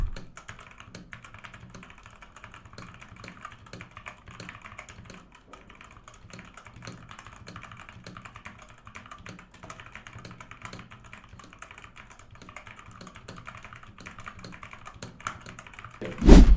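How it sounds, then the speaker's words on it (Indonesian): Typing on a Robot Workmate IV mechanical keyboard: a steady stream of close, soft clicky keystrokes continuing throughout at an even pace, with a louder knock right at the end. "kita akan ngetes rasanya dan suaranya ngetik di keyboard Robot Workmate 4 ini"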